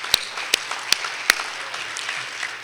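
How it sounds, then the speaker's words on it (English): A few sharp, separate claps ring out at an awards ceremony for athletes and their families at the Tempe All-City Awards, followed by faint, thin clapping that quickly dies away. "a huge round of applause for these great athletes and their families"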